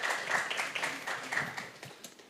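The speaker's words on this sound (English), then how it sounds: "Please, let's give them a round of applause." Audience applause at a Filmlab Africa Creative Hustle event, a steady patter of many hands clapping throughout, moderately loud and fairly close, with no talk over it.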